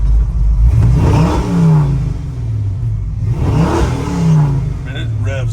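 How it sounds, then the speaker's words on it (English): A 1970 Ford F-100 bumpside pickup, swapped with a Crown Victoria engine and fitted with a 600 CFM FST carburetor, gets two quick revs, each rising sharply and falling back to a rough idle, loud and close. "Give it a couple quick revs on here."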